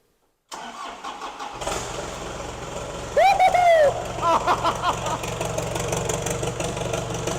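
A rat rod's engine cranks and fires up, catching with a loud rising rev around the start and then settling into a steady, fairly loud idle with some knocking, close by.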